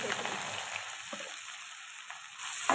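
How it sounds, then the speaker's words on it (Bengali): Chopped onions fry in oil for a raw papaya curry, a soft steady sizzling hiss with faint stirring taps, fairly quiet and without talk. "পেঁয়াজটা ভালো করে লাল লাল করে ভেজে নেব।"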